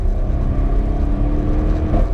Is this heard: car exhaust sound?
yes